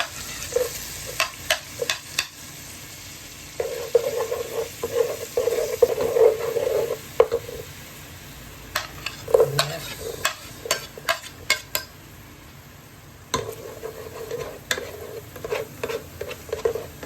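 Garlic sizzles steadily in a pan for pork menudo while a utensil stirs and scrapes against the metal in irregular clusters of clicks and taps.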